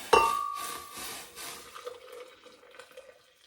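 Pineapple juice and water mixture pours into a container after a sharp clink of glass, a soft splashing stream that gradually tapers off.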